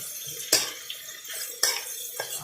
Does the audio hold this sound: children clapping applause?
no